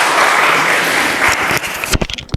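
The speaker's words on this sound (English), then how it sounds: "Everyone give Paul a round of applause." Loud, dense applause from a lecture audience, a thick steady roar of clapping close by that thins out near the end into a few separate, sharp claps.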